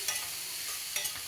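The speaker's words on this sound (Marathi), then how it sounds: "इथे मिक्स करून घ्यायचं. सगळ्या भाज्या टाकून" Vegetables for Chinese noodles stir-fry in a hot pan, giving a steady close sizzle with a couple of soft scraping stirs and no voices.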